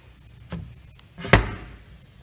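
Wooden door in a mini house build swinging shut against a newly framed-in door stop, a soft knock followed by a sharper, louder thud, close and alone in a quiet room.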